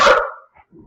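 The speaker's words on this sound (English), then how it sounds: "sorry about my dogs there." One sharp, loud dog bark close by, followed by a faint softer yip.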